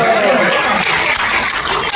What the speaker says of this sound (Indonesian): Ini tepuk tangannya itu basa-basi.